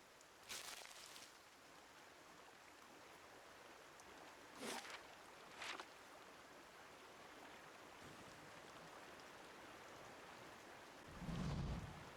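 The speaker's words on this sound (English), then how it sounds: "Looks to rain now." Rain and thunder in the fantasy role-playing game Pillars of Eternity: a steady faint rain hiss throughout, with a few brief rumbling bursts and a deeper thunder roll near the end, no speech.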